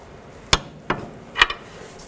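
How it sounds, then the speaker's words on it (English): A torque wrench tightens a nut to 58 foot-pounds on the front lower control arm of a 2005-15 Nissan Xterra, giving three sharp metallic clicks spaced about half a second apart, close and clear over a quiet background. "Now I'll torque this nut to 58 foot-pounds"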